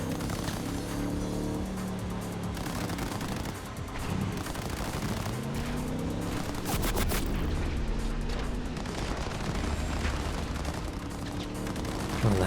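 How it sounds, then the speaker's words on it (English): Dense gunfire bursts and booming shots from the video game Cyberpunk 2077, loud and continuous throughout, layered over a game soundtrack with rumbling low tones. "that dude just shot the shit out of us"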